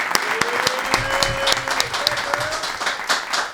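A podcast studio audience applauds guest ShaiVa with a burst of steady, moderately loud clapping and some crowd noise throughout.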